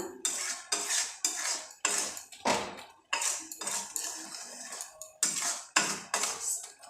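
Onions and tomatoes being stirred in a metal pot, a series of distinct clattering scrapes of a spoon against the pot in an irregular rhythm, close and fairly loud with short pauses between strokes.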